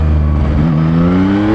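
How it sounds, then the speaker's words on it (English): A 2024 Yamaha MT-09 motorcycle engine revs in street mode, a loud close throttle blip whose pitch climbs smoothly and steadily with no one speaking. "Put it into street mode, just to show you guys what the difference is on the throttle."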